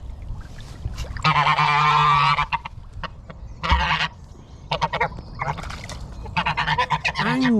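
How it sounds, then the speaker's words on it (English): Angry geese at a narrowboat mooring give loud, harsh honks. One long sustained honk is followed by a series of shorter bursts and clipped calls close by. "Angry, goosey."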